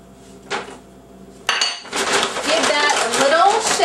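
Spices are dumped into a bag holding two cups of flour and the bag is shaken. A couple of sharp knocks are followed by a sustained, close rustling rattle.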